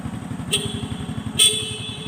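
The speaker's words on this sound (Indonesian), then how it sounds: "Suara klakson masih bersuara dengan baik, berarti masih layak untuk digunakan." A motorcycle horn gives two short beeps, about a second apart, over the steady rumble of an idling engine.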